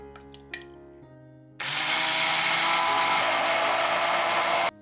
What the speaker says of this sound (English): I want my tonkatsu sauce to have a smooth texture. I blend it.